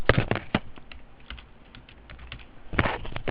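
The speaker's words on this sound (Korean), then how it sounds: "부흥이라고 치시고 부흥정밀을 선택한 다음에 150만원 입력합니다" Someone types a company name on a computer keyboard into accounting software: rapid bursts of close key clicks at the start and again near the end, with sparser taps in between and no talk.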